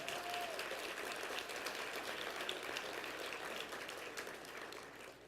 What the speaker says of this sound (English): a huge round of applause for an amazing event